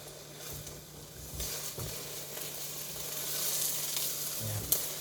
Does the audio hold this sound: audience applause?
no